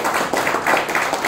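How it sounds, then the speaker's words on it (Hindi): A business-meeting audience in Chandigarh breaks into a brief round of clapping to welcome a guest, a close burst of many hands with no voices on top. "उनके वेलकम के लिए जोरदार तालियों से"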